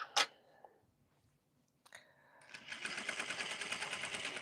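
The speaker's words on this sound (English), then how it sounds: "So I'm gonna go ahead and sew this on up." A sewing machine stitches a seam on a Vogue V1870 garment, starting after a few clicks and then running as a steady, fairly loud, even whirring buzz for the last two seconds.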